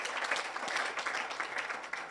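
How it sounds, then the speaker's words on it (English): An audience at a development partners' close-of-service event applauds the presenters with a brief, continuous patter of clapping that holds steady and sounds moderately close. "Let's give them a clap."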